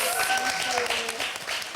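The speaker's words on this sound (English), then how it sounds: "let's give everybody a round of applause" Audience applause at a live podcast event, a steady dense wash of clapping filling the whole short stretch, with a few voices and tonal sounds faintly mixed underneath.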